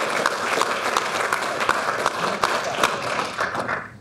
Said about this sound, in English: give them a nice round of applause for all their hard work